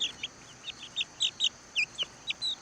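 Young Red Ranger chickens foraging on a hillside, giving a series of about a dozen short, high, evenly spaced peeping calls, fairly close and without talk.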